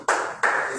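Two sharp bursts of audience clapping at a French-speaking memorial gathering, each starting abruptly and fading, close and brief with no voices.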